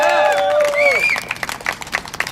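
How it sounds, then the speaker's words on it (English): Crowd applause at a justice rally for the Harmon family: raised voices and shouting come first, then scattered clapping breaks out and continues in uneven bursts. "Let's get a round of applause for the Harmon family."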